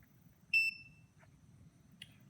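Multimeter on its audible continuity setting giving one short, clear electronic beep, with fainter clicks and a tiny chirp around it over low background hum.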